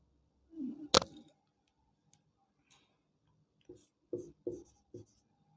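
Chalk or marker writing on a board during a physics lesson: a sharp tap followed by several short scratchy strokes spaced irregularly, close and fairly quiet, with no talk over them.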